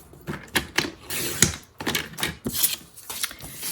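Scissors or a trimmer cut through calendar paper in a quick series of crisp, close snips, about a dozen in under four seconds.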